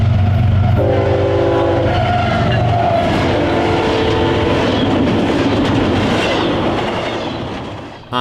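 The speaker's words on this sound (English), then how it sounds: "we returned to the Chicago line to capture a parade of trains between Bryan and Swanton, Ohio" A Norfolk Southern train on the Chicago line in Ohio sounds its horn in loud sustained blasts, then rumbles past with rolling wheel and engine noise close by, fading at the end.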